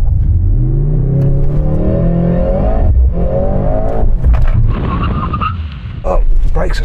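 Mercedes C63 S E Performance, a four-wheel-drive hybrid with an electric motor, accelerating hard, its engine note climbing steeply through gears with brief shift breaks, heard loudly from inside the cabin while occupants talk over it.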